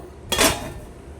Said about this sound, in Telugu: ఇంక ఇప్పుడైతే మూత పెట్టేస్తున్నాను